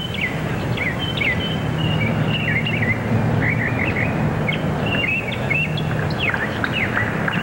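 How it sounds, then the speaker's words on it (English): Several birds chirping and tweeting on a golf course, a busy run of short bright calls over a low murmuring crowd and outdoor background noise. "Bird's getting louder."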